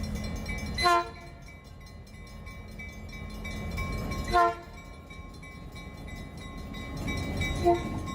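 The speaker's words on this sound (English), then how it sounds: "This is of the Napa Valley wine train." Napa Valley wine train sounding its horn in three blasts, two strong ones a few seconds apart and a shorter, fainter third, over a steady low rumble of rail cars rolling past.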